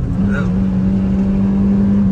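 A Mahindra Thar 5-door pulls hard after a downshift, its engine holding a loud, steady drone close by while people talk over it.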